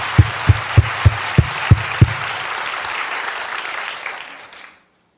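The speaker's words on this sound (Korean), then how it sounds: "깨달은 대로 또 박수 치겠습니다" A church congregation claps in unison during a sermon. Several loud, evenly spaced claps open a dense burst of applause that stays steady for a few seconds and then fades out.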